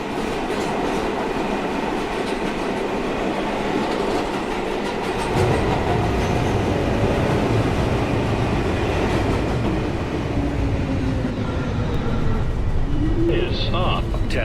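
A New York City subway 1 local train rolls between Chambers Street and Rector Street, a steady loud rumble of wheels and car noise that swells after a few seconds, with faint squeals near the end.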